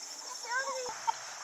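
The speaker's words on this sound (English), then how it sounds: "That chicken's mean. Yeah, he's a mean chicken." A mean rooster on a backyard farm gives one short, faint clucking call, fairly quiet against a steady background hum.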